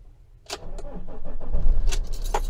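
A Fiat Ducato 3.0 JTD 160 campervan restarts with the ignition key: a brief key rattle, then the diesel engine cranks and catches, settling into a steady close idle that grows louder.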